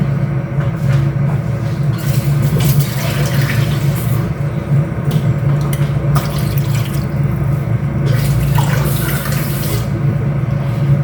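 Water poured from above into a pot of chicken adobo, a continuous close splashing pour with brief clinks of the pot, no talking.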